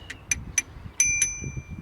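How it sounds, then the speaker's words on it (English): Bicycle bell on a bolt-together recumbent bike, rung in five quick bright dings, the last two ringing out longer, close and clear over low background rumble. "Bell there."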